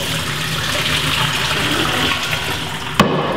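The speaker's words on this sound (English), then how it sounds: "Make sure you rinse them with cold water so they cool down faster, so it's easier to fill." Cold tap water runs steadily over cooked pasta shells in a strainer, a continuous close hiss and splash with a brief clatter near the end.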